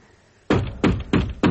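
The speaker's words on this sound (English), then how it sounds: "When I awoke, I started to bang on the cell door again." Someone bangs on a cell door in a radio drama, four heavy, evenly spaced thuds starting after a brief quiet pause, loud and close.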